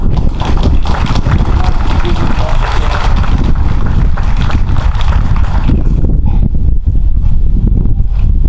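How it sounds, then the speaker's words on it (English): Strong wind buffets a microphone outdoors at a hospital ribbon-cutting ceremony, a loud, constant rumbling roar that fills the whole stretch and eases slightly toward the end. "And the wind picks up."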